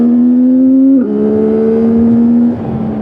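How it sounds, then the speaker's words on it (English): A CFMOTO 675NK motorcycle engine holds a steady, loud, rich idle-like drone, drops in pitch briefly, then settles and eases off near the end. "The bike creates a tune that sounds rich and truly sporty, without being obnoxiously loud"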